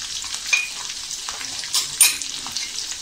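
Slit green chillies and a pinch of asafoetida crackle in hot oil for Maharashtrian pithla, a soft, steady sizzle with a few sharper pops and light stirring scrapes.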